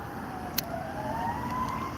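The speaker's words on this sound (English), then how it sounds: "Here come the sirens." A faint siren wails in the distance, its pitch slowly rising over steady road noise, with a brief sharp click partway through.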